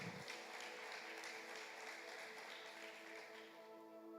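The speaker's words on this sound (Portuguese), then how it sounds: "Aplauda o Senhor." Congregation in a church applauding together, a dense, steady wash of clapping held at an even, moderate level from start to finish without any talk over it.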